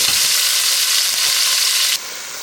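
Turkey necks searing in a pot give off a loud, steady close-up sizzle and hiss that suddenly drops lower near the end, with no talking.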